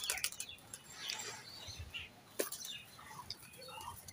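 A green Madras pigeon is released and flies off outdoors, giving a few faint, brief wing flaps amid light bird chirps and background noise.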